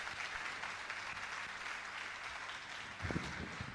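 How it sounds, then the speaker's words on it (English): A round of applause from the audience at a talk event on the science of Black hair, fairly faint and steady throughout, with a few closer claps near the end. "bigger round of applause, man"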